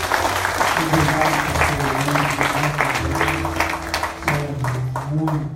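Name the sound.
church audience applause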